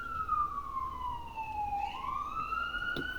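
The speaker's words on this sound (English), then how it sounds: "I live next to the hospital, so it's a lot of sirens" An emergency vehicle siren wails near a hospital, a single steady tone sliding slowly down and then rising again, moderately loud and continuous with faint background hum.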